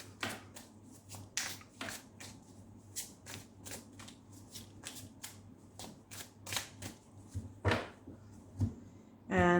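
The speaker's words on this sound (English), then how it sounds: "I'll pull out 6 cards." A deck of oracle cards is shuffled in quick, crisp riffling bursts, a rhythmic series of close, soft flicks and slaps repeating throughout, with a brief voice at the very end.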